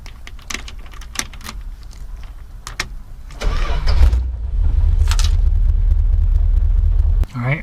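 A 1964 Dodge Custom 880 cranks and fires up after a few clicks and shuffles inside the cabin, settling into a loud, steady low idle that cuts off near the end; a voice speaks briefly.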